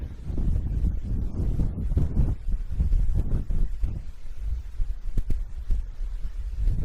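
Strong gusty wind buffeting the microphone on the summit of Aran Fawddwy, a Welsh mountain, as a continuous loud low roar with fluctuating gusts and no voices.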